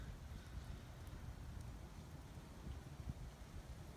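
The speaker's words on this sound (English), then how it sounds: "we're getting some light rain right now, along with some thunder and lightning" Light drizzly rain falls in the early morning as a small storm cell passes. It makes a faint, steady, soft patter with low rumbling underneath.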